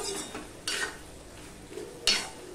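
A spice paste with potato and onion being stir-fried in a pan for a Chittagong dried loitta fish dish, with soft frying hiss and a few scraping strokes of a utensil against the pan.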